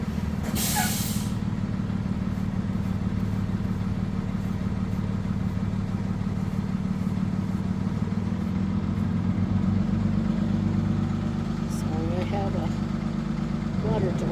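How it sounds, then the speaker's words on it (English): A delivery truck's engine runs nearby, producing a loud, steady low rumble that fills the whole stretch without a break, with a few faint higher sounds near the end. "delivery truck here at the moment."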